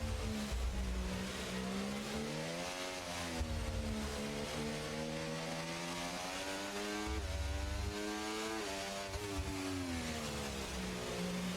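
Race car at speed on the Brazil circuit, its engine note climbing and dropping through repeated upshifts and braking, loud and continuous, with brief low rumbles between gear changes.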